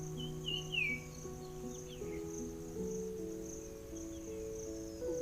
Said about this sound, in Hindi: अगर आप थोड़ा गौर से सुने तो मुझे चिड़ियों की आवाज आ रही है।